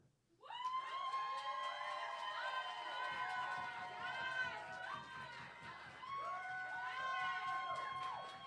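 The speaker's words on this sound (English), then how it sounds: "Keep that round of applause going for Clara." Audience at a poetry slam semifinal night cheering and whooping, many overlapping voices rising and falling loudly and continuously throughout, with applause not clearly distinct beneath the shouts.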